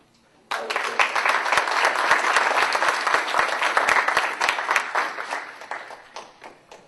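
Audience at a national conference breaks into sudden loud applause, a dense wash of many hands clapping that swells, holds steady for several seconds, then thins and fades away.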